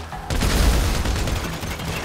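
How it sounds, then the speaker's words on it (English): Dense gunfire erupts in a Grand Theft Auto V shootout against mercenaries, a loud sustained barrage of overlapping shots and booms starting abruptly after a brief quiet moment and continuing without pause. "So I guess we're shooting our way out of here!"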